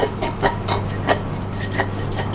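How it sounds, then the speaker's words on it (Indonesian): Candlenuts are crushed bit by bit for a Balinese spice paste, giving a series of rough rubbing, grinding strokes at an uneven rhythm over a low steady kitchen hum, close by and without talk. "kemirinya sedikit demi sedikit kita hancurkan"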